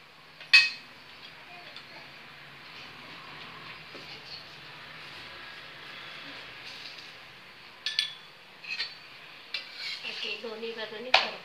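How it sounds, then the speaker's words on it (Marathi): Puran poli being flipped and roasted with ghee on a pan, a faint soft sizzle under sharp metallic clanks and scrapes of a spatula against the pan, no speech. "थोडं तूप घालूया. परत आपण ही पोळी पलटी"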